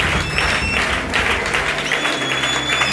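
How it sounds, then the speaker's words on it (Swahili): A church congregation claps for Jesus in a sustained, dense wash of many hands, loud and continuous throughout with a faint tone of music or voices beneath. "Pigia Yesu makofi."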